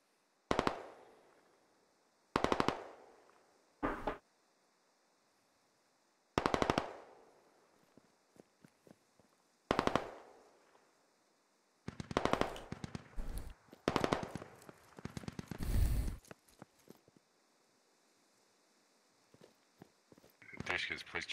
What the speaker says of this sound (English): We're taking fire from friendlies.